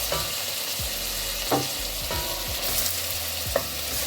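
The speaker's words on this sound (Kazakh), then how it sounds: "Кішкене аздап қуырамыз." Chopped meat fries in a pan with onions for a lagman dish, a steady, close sizzle with faint stirring scrapes and no talking.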